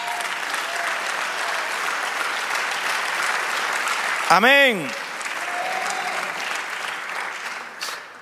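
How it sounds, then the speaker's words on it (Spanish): A church congregation claps steadily through the room, a broad wash of applause that holds throughout, briefly crossed by a loud voice or tone sweeping in the middle before the clapping fades slightly. "Dale otro aplauso al Señor."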